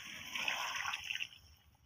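Water poured into a pan of Odia-style vegetable curry while it cooks, a soft splashing trickle lasting about a second and a half, close and fairly quiet, then tapering off.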